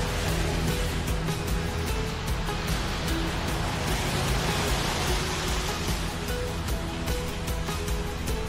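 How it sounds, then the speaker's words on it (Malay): Steady rain falls as a continuous, even hiss of broadband noise, close and unbroken for several seconds with no talking. "Hujan balik."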